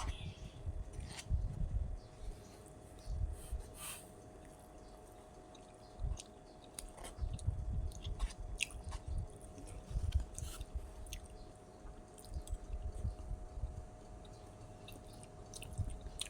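Close, wet chewing and soft crunching while someone eats grilled fish with chili dip and fresh vegetables, coming in irregular bursts of bites against a quiet outdoor background with faint birds.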